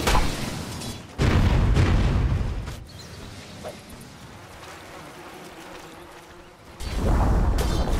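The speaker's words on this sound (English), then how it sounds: "Dire's bottom tower has fallen" A tower crumbling in Dota 2, with heavy booming rumbles that start loud, fade into a lower sustained roar of game noise, then swell loudly again near the end.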